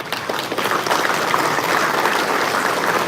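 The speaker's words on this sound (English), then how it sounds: "let's give her a round of applause." Audience applause fills a trade-show hall at FSExpo, a dense, steady clatter of many hands clapping that holds for about three seconds with no voices over it.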